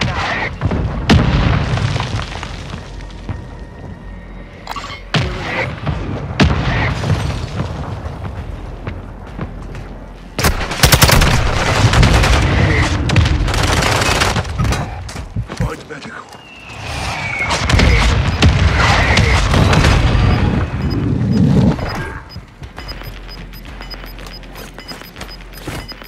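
Artillery fire-mission explosions and gunfire in the Warzone II battle royale game, with heavy booms and bursts rolling through the clip alongside radio-style voice callouts.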